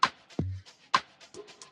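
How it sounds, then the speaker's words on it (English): Shaker percussion ticks in a short beat, bright rhythmic hits alongside a deep kick thump, faint and close. "Then I added something like a shaker percussion"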